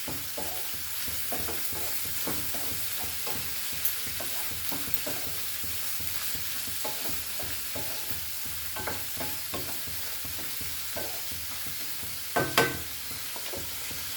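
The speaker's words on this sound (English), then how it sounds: "So we'll just fry this on high flame." Prawns fry over a high flame for butter garlic prawns, a constant hissing sizzle with rhythmic stirring scrapes and an occasional louder clack of the spatula near the end.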